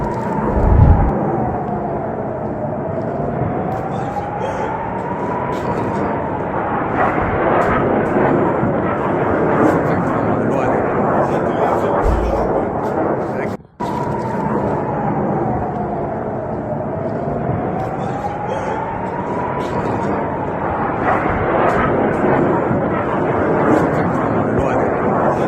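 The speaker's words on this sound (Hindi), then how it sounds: "एक मिसाइल ईरान की इजराइल में गिरी है" Dense, sustained roar of an Iranian missile strike on Israel, loud and continuous, with a wavering siren-like tone running through it and a brief dropout midway; voices are mixed into the din.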